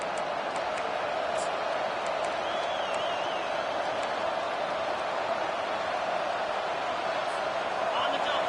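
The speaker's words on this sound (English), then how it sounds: "This crowd, full throat, splitting the eardrums and letting them know it's going to be a long day." A college football stadium crowd roars at full throat during a game, a dense, steady wall of loud cheering that fills the whole stretch without letup.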